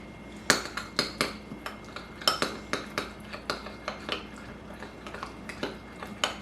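A utensil stirs and beats seasoned garlic butter in a bowl, giving a steady series of sharp clinks against the side at a quick, regular rhythm, close and clear with no talking.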